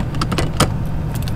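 Metal keys jangle in short, repeated bursts while an Airstream trailer's door lock is being unlocked, close and fairly loud over a steady low background rumble, with no talking.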